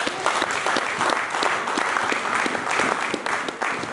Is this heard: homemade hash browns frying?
no